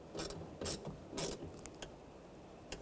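Ratchet snugging the negative battery terminal on a 2009–2010 BMW 535i xDrive, a few faint, close clicking bursts in a quiet space.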